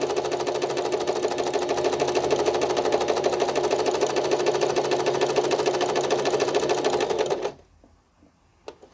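A sewing machine stitches fabric at a fast, steady pace for about seven seconds, loud and close with a dense rhythmic whir, then stops abruptly, leaving a few faint handling clicks and no talking.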